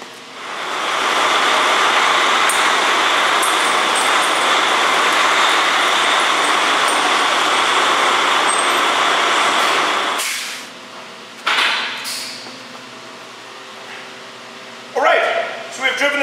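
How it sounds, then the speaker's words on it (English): A truck drives ahead off its tire chains on a winter road, a loud sustained roar of engine and rolling tires that cuts off abruptly, leaving quieter scattered clanks and thumps, with talk afterward. "Driven the truck away from the tire chains."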